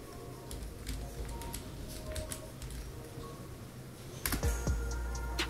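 Keys on a computer keyboard are tapped in a few sparse, light clicks over a quiet room hum, ending with a firmer, louder key press near the close.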